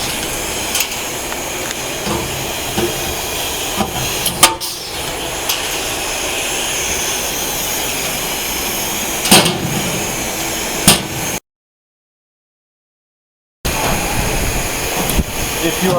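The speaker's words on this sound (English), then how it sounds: "we rivet the hole in the bottom, riveting from the top so that the bottom of the locker" Riveting the bottom of a metal storage locker, riveted from the top, gives sharp metallic snaps at intervals over steady workshop noise, with a short silent gap near the end.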